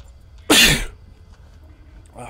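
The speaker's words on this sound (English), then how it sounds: "Gotta sneeze." A single loud, sharp sneeze bursts out close by, then quiet returns, with faint stirring at the very end.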